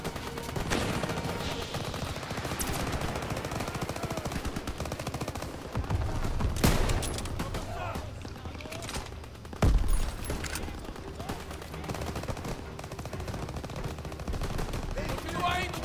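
Video game gunfire in Call of Duty WW2: dense, continuous battle noise with rapid shots and machine-gun bursts, a couple of louder blasts standing out, and faint talk mixed underneath.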